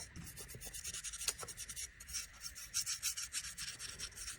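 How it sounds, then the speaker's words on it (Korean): Soft, steady rubbing strokes close up, a brush repeatedly swishing oil onto miniature wooden furniture along the grain, in gentle, uneven rhythm, quiet and with no talking. "붓을 이용해서 오일을 발라주세요."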